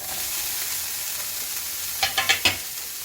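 Green chilli, cabbage, capsicum, carrot and beans stir-frying in a pan for vegetable fried rice, a steady close sizzle followed by four quick scraping stirs near the end.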